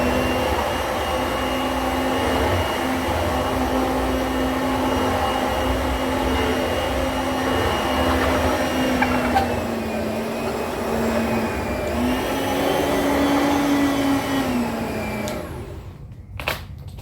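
An Oreck XL Platinum HEPA upright vacuum cleaner runs with a loud, steady motor whine and airflow rush. Its pitch shifts slightly partway through before the machine cuts off near the end.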